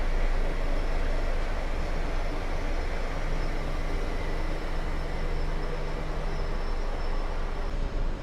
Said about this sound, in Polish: Ruszają flirty